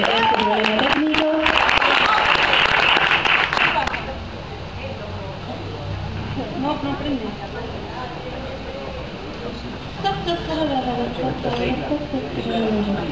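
Audience applause at a live music show in a club, dense and loud for the first few seconds, then cutting off as a voice speaks over quieter room noise.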